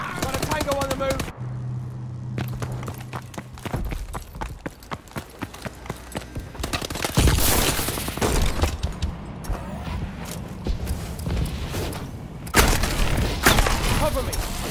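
Gunfire in the video game Call of Duty: Advanced Warfare, with dense bursts and scattered single shots mixed with game effects and occasional voice lines, loud and close throughout.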